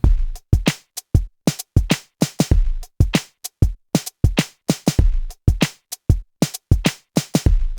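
A programmed drum pattern on a Pocket Operator, tight punchy kicks and crisp snare hits in a steady repeating 16th-note groove, close and dry with no talking.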